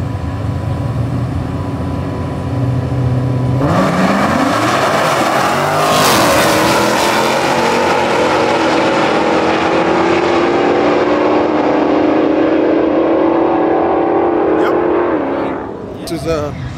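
Dodge Hellcat muscle cars launch at a drag strip, engines roaring loud and close with a sharp rising surge that sustains then fades, while people talk over the noise.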